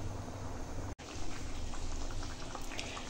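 Chicken curry with potato and pointed gourd simmering under a lid, a soft continuous bubbling hiss with a brief dropout partway through, faint and steady.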